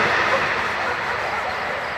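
A passing train rumbles as a broad, steady roar that fills the whole stretch, loud and continuous.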